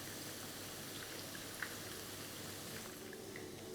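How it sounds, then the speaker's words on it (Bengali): Paneer cubes frying in hot oil crackle and sizzle softly in a pan, a steady fine bubbling hiss throughout with no voices, fairly quiet and close. "এবারই একইভাবে আমি সেকেন্ড ব্যাচটাকেও ভেজে নিচ্ছি"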